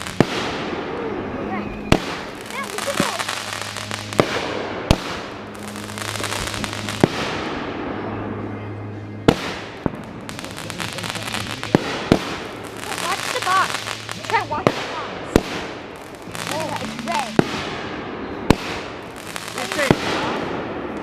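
Backyard July 4th fireworks burst and crackle in repeated sharp bangs across the whole stretch, some close together, with voices talking and calling out between the explosions.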